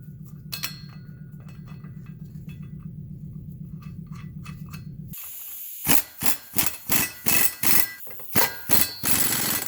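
A ratchet wrench tightens bolts on a Pontiac G8 driveshaft at the hanger support bearing: soft mechanical rattling at first, then a loud, close series of rhythmic ratcheting clicks in quick, regular strokes.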